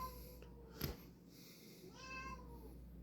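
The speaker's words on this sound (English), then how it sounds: "I got my cat with me. I don't know why he was meowsing." A pet cat gives a single soft meow late in the clip. It sounds nearby but quiet against a faint room hum, with a brief knock or bump shortly before it.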